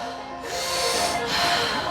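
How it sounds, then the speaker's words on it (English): Forceful breaths drawn in and pushed out through the mouth during a breathwork exercise, two long airy rushes in quick succession, close and loud with no talking. "We're gonna start switching to the mouth when you're ready. Nice, nice, nice powerful breaths."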